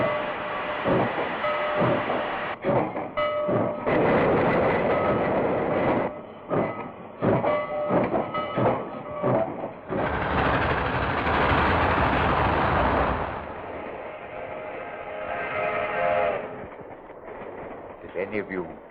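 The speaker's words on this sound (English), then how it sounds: "it was a late train pulling out of the P&M station for Los Angeles." A radio-drama sound effect of a late train pulling out of a station, with loud chugging bursts and rhythmic clanking giving way to a sustained roar, rumbling continuously close up for the whole stretch.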